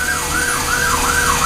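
Ambulance siren on a Montreal street, a loud close wailing tone sweeping up and down in repeated cycles over low traffic rumble.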